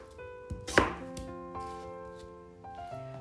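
A knife chops a pear into small pieces on a board. One sharp chop stands out, with a couple of fainter cuts over a steady tonal hum in the background.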